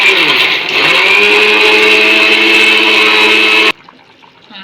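A mixer grinder whirs loudly and steadily for several seconds while grinding rice and coconut, then cuts off abruptly, leaving quiet background noise.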